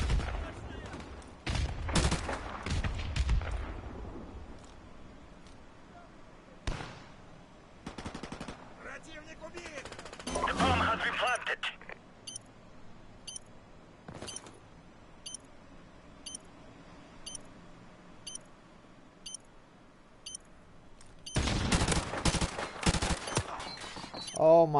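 Rapid bursts of gunfire in a Call of Duty 4 search-and-destroy match, loud clusters of shots at the start, middle and end with quieter spells and faint beeps between, a voice talking over parts of it.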